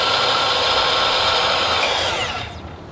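A bandsaw runs with a loud, steady whirring whine and broad noise, then winds down near the end as the blade coasts to a stop.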